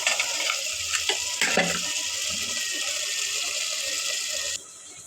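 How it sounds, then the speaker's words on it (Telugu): Water pours into a pan of curry cooking in oil with ginger-garlic paste and coconut powder, a steady broadband hiss and splash running nearly five seconds before cutting off, loud and close with no talk. "నిమిషాలు పెట్టేసి నీళ్ళు పోసేస్తాను నేను"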